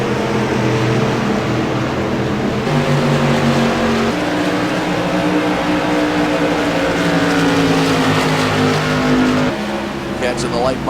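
Light modified race cars roar down a speedway straightaway at New Hampshire in a CRA Modified Madness Tour race, several engines droning loud and steady with shifting pitch, under an excited commentator's voice.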